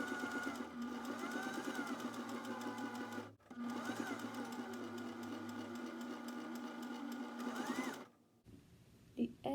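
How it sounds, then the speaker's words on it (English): A sewing machine stitches brown cotton or muslin face mask fabric with a steady, close mechanical whir. It pauses briefly once, runs on, then stops near the end. "you're doing the same thing with the brown cotton or the muslin, and you're sewing it together"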